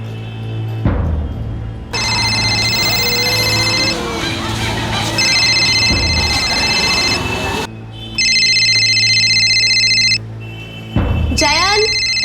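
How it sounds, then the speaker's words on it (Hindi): A telephone rings with an electronic ringtone for an incoming call, sounding in repeated bursts with pauses between them and a short rising chirp near the end, over a steady low background hum and some faint noise. "जयन, पापा का फोन है।"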